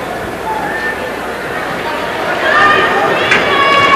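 Subdued crowd murmur at a high school hockey game between Brother Rice and St. Stephen's, paused after an injury; a steady, diffuse babble of spectators with scattered faint whistles and calls that swells slightly toward the end.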